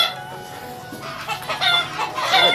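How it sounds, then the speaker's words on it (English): Several farmyard chickens cluck in short, uneven bursts around a rural house in Ilocos Norte, growing louder and busier toward the end, with a steady ambient hiss underneath and no talking. "And there's another chicken over here."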